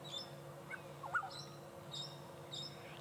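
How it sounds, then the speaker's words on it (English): A black-headed oriole whistles a few clear, liquid notes at intervals amid other faint birdsong at sunset, moderately distant over a low background hum. "the black-headed oriole, that whistle, is sort of the overwhelming sound that we're hearing."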